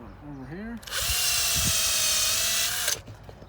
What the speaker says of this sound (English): But first I'm going to secure the piece of wood with some screws.